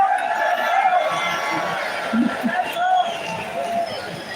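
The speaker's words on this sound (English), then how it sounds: "So can we have one more cheer to speed his way to the stage?" A crowd at a London farmers' protest cheers and whoops for Jeremy Clarkson, a broad, sustained roar of voices with chatter running through it.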